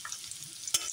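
Ground turmeric and chili spices frying in a pan, a faint hiss with one sharp scrape of a spoon partway through, brief and close.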